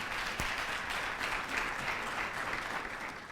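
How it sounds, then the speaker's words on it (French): A studio audience in a national television hall applauds steadily, a dense, even wash of clapping that carries on without pause from start to finish. "Merci d'applaudir pour vous-même présents ici dans cette salle."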